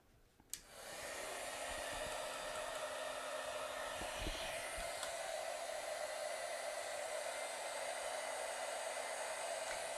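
An electric heat tool switches on with a click and blows a steady, even whoosh of air to dry wet paint, continuous and close for the whole stretch, with no talking.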